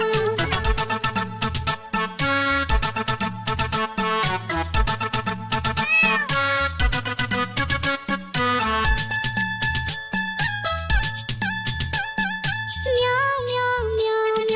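Sung meows imitating a cat in a Hindi children's nursery rhyme, repeated in a bouncy rhythm over a loud, busy musical backing with no spoken words.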